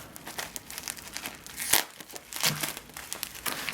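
Packaging crinkling and tearing as a package is opened during an unboxing, with close, irregular plastic rustles and one sharp rip partway through.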